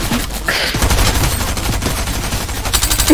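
Rapid bursts of gunfire crackle in a shooting video game, dense repeated shots close and loud with no talking over them.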